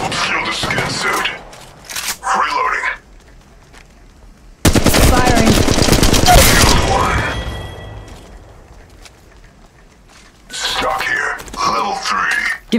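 Automatic weapon fire bursts loudly during an Apex Legends Mobile match as a sustained rattling volley of several seconds, framed by voices talking before and after.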